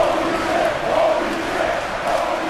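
A wrestling crowd roars steadily and loudly throughout a stop-motion No Limits Wrestling cage match, with cheering and shouting swelling slightly midway and no clear individual voices.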